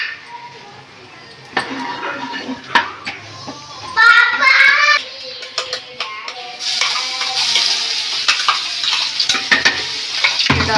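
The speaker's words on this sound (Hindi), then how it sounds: "डाल दिए प्याज, इन्हें कर लेते हैं ब्राउन" Oil sizzles and crackles in a pan as onions fry, with stirring clatter and a brief bright hiss partway through.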